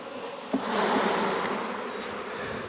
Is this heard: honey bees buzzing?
yes